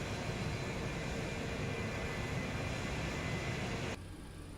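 A McDonnell Douglas MD-88 jet on its landing rollout with thrust reversers deployed gives a steady, loud broadband roar that drops suddenly near the end.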